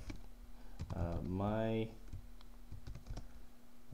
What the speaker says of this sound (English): we're going to type in a title for this page